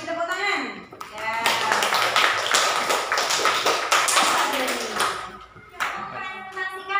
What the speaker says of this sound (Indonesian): Kelompok 3, kelompok 4, beri tepuk tangan.